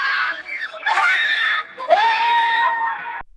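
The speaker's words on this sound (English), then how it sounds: "so I'll try monkey yellings" AI-generated monkey yelling: a dense run of shrill, screechy calls in several bursts, loud and close, with brief gaps between squealing cries before an abrupt cutoff.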